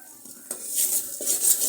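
A spoon stirring mustard and ginger paste in a pan for mango pickle, soft close scraping and a few metallic clinks with a faint sizzling hiss underneath.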